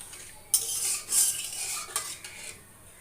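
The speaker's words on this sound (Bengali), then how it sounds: "এই পরিমাণ জল দিয়ে দিলাম এবং মশলাটা ভালো করে কষিয়ে নিচ্ছি" Chicken curry spice paste cooked with water in an oil-free pan, stirred with a utensil: a few distinct scraping strokes against the pan over a faint sizzle, close and moderately loud, no voices.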